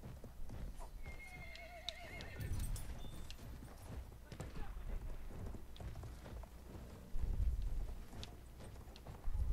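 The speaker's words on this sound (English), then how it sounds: "I'm currently running a horse." Horse whinnying and galloping hooves in the World War I shooter Battlefield 1, with rain and thunder-like rumble in the background and occasional talk over the game sound.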